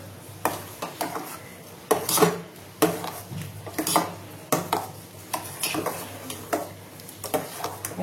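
A spoon stirs turmeric into hot water, making repeated clinks and scrapes against the vessel in an irregular rhythm, close and fairly clear, with no talking.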